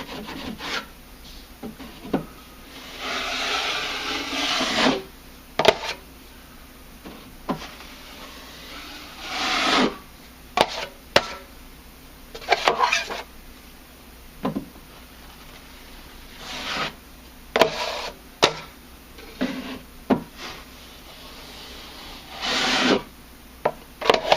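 A drywall patch is smoothed by hand, producing repeated rasping, scraping strokes in uneven bursts with short pauses between them, close by and without talk.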